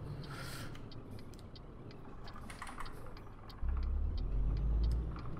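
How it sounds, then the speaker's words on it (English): Heavy truck engine in Euro Truck Simulator 2 hauling a 75-tonne load, a low steady drone that swells suddenly into a deep, louder rumble near the end, with scattered clicks above it. "there's other versions of this truck that don't have that annoying sound."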